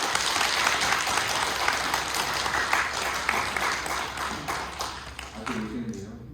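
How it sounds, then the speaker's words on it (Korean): A church congregation at a Sunday worship service claps in welcome, dense applause that holds strongly then thins and tapers off near the end, with a faint voice emerging as it fades. "우리 환영의 박수 한번 하시겠습니다."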